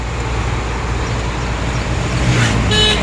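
Steady low road rumble from inside a truck cab on the drive from Kolhapur to Goa, a constant engine and tyre drone with a faint rise toward the end, no talking.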